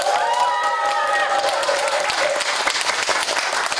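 Sustained applause from a gathering at a Buddhist temple ceremony in Changwon, steady and fairly loud, with a voice speaking briefly over the start of the clapping.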